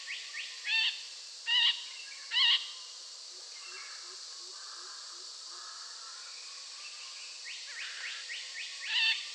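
Long-tailed parakeets on the Andaman Islands give sharp, repeated calls in bursts, three loud close calls early on, then quieter chatter and another burst at the end over a steady hiss of insects.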